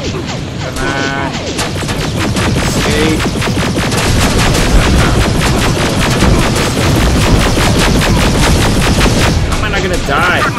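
Dense, relentless gunfire fills a fight in the video game Terminator Resistance, loud rapid bursts and crashing impacts overlapping with no break, while a player's voice cuts in briefly.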